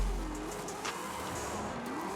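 A 1970 Hot Wheels Trans Am custom drift build in Forza Horizon 5 drives along, its engine a steady moderate drone with wavering pitch and a faint tire edge, heard alone.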